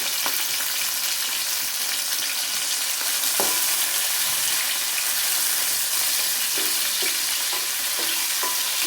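Onions with salt fry in a pan with a steady, close sizzle, broken by a few light spatula taps and scrapes toward the end.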